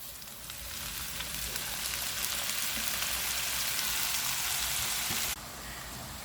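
Loud, steady sizzling of spinach frying with salt in a hot, uncovered pan, a dense crackling hiss that swells slightly and then drops a little near the end.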